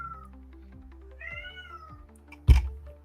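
A cat meows several times in a row, short mewing calls of moderate loudness, with a louder sudden noise near the end.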